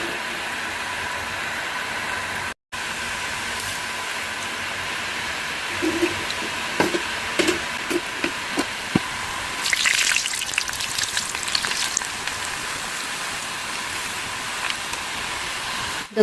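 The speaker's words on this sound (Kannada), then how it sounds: "ಈಗ ಎಣ್ಣೆ ಕಾದಿದೆ. ಈಗ ಇದನ್ನು ನಾನು ಕರಿತಾ ಇದ್ದೀನಿ." Rice chakli frying in hot oil, a steady soft sizzle and bubbling that runs throughout, with brief crackles and pops flaring up partway through.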